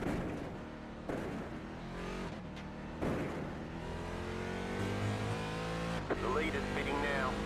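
Racing cars on the Zolder track during a 23-hour endurance race roar and rev, with engines rising and fading under continuous commentary talk.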